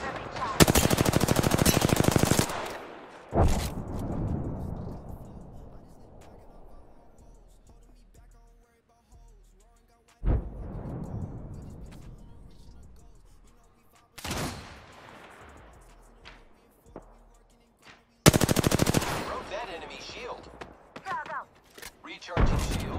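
Bursts of automatic gunfire crackle in Apex Legends, a long loud volley at the start, then shorter bursts and single shots, a heavy burst again near the end, with in-game voice callouts between them.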